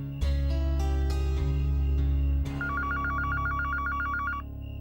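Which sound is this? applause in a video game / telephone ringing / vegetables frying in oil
telephone ringing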